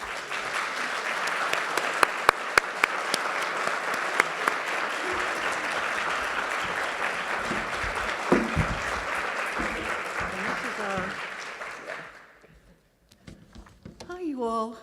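Sustained audience applause at a Texas art event as a speaker is welcomed to the podium, steady clapping with a few sharper claps that fades out, followed by a voice beginning to talk.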